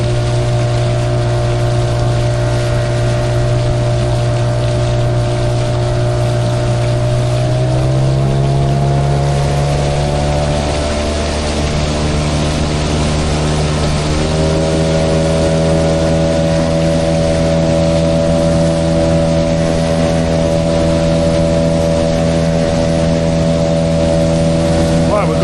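Engine of a Boatworld Cruiser 380 tunnel hull boat drones loudly and steadily, its pitch dropping and then rising again as it changes speed, with rushing water and wind all around it.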